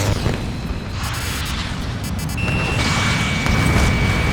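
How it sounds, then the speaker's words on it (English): Major explosion at an oil field in the Ace Combat: Assault Horizon video game, a loud, sustained, rumbling blast with a heavy low roar that holds steady and swells slightly toward the end, with no voices. "we have a major explosion at the oil field"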